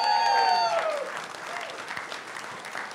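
Audience applause that rises quickly and then continues steadily, with a voice or tone sliding briefly at the start above the clapping.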